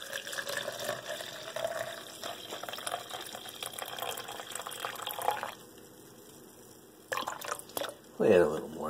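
White vinegar pours and splashes into a container for pickled eggs, a steady trickle with drips, ending with a brief clunk.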